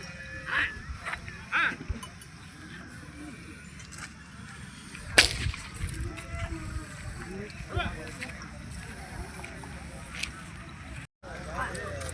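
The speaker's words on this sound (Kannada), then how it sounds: "ಎತ್ತುಗಳು ಬರ್ಲಿಕ್ಕತ್ತವು ಪೇಟೆಗೆ." Oxen arriving at a livestock market, with whip cracks, clattering and scattered animal noises under ongoing voices in a busy outdoor setting.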